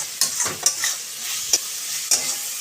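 Spatula stirring fried Malabar spinach and taro in a pan, with a steady hiss of sizzling oil and several sharp scraping strokes spaced irregularly, close and moderately loud, no voices.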